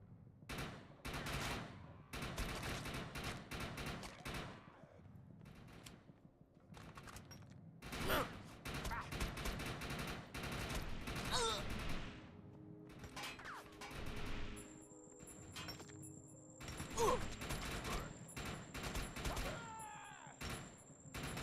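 Gunfire from the video game Defiance pops in steady, rapid shots and short bursts, mixed with metallic clanks and other game effects, with voices in the background.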